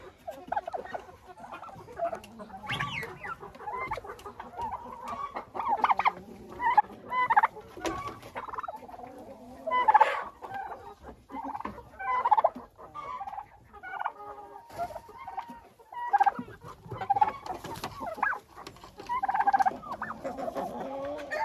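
Turkeys gobble and cluck repeatedly at close range, their bursts of calls coming in irregular rhythm over a quiet farmyard background.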